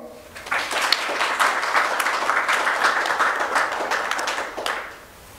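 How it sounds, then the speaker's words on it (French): Audience applause at a world rubber summit ceremony, a sustained burst of clapping from a crowd lasting several seconds before tapering off, fairly loud and even. "je demande qu'on l'acclame"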